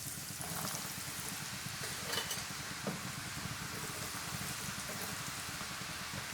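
Peanuts frying in hot oil for masala peanuts, a steady dense crackling sizzle that runs throughout at moderate level, with a few brief louder pops and no voices.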